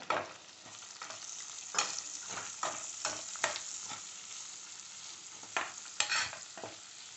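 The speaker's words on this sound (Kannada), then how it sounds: "ಅದೇ ಎಣ್ಣೆಗೆ ನಾನು ಕಟ್ ಮಾಡ್ಕೊಂಡಿದ್ದೀನಲ್ಲ ಒಂದು ದೊಡ್ಡ ಈರುಳ್ಳಿ ಸಣ್ಣದಾಗೆ, ಅದನ್ನು ಹಾಕ್ಕೊಳ್ತೀನಿ." Finely chopped large onion frying in hot oil for black pepper chicken, a steady sizzle with a series of scraping stirs of the spoon against the pan, close and alone with no talking.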